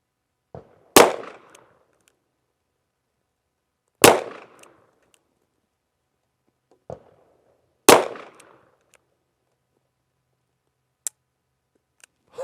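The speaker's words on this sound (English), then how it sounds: "Lit off. 7 CCI primers." CCI primers pop off one by one in a Dan Wesson Pointman Major 1911, sharp isolated cracks spaced seconds apart, a few louder and others faint, in an otherwise quiet setting.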